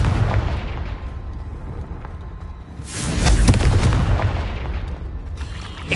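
A fiery Confringo spell blast in the video game Hogwarts Legacy, with rumbling, crackling combat noise that swells into a loud, dense burst midway and then eases off, with no talk.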